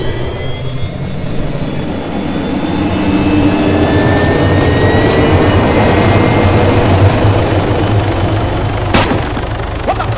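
Helicopter in the video game DayZ, a loud steady engine and rotor drone that swells in the middle and holds, with a brief sharp crack near the end; no talking.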